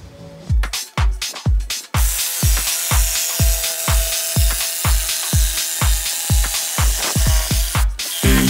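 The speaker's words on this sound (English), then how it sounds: "I'm going to make my way around here slowly with the jigsaw" A jigsaw cuts slowly through a wooden skateboard deck in a school workshop, a loud, close, rhythmic rasping of about twenty evenly spaced strokes after a few uneven starts.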